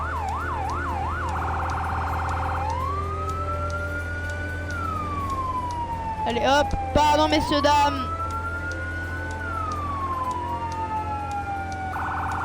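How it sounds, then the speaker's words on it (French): Fire truck siren in a firefighting video game, a loud wailing tone that sweeps slowly up and down across the clip, with a burst of rapid yelping in the middle and a steady low engine hum beneath; a voice speaks briefly. "Ah j'entends la sirène"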